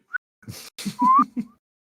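A human voice imitates a slide whistle with short whistled chirps and a rising gliding tone, mixed with breathy vocal bursts, all close and fairly loud against silence.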